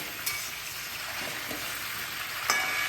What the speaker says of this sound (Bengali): এই ওলটাকে ওই মাংসের সঙ্গে একটু ভেজে নেবে